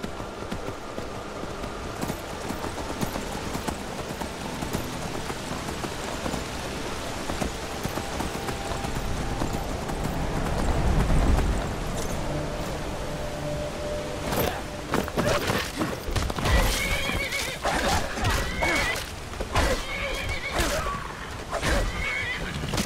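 A horse gallops through snow in The Elder Scrolls V: Skyrim, with a loud whinny over a steady rain-like wash of hooves and ambience, then sharper, denser hoof strikes later on.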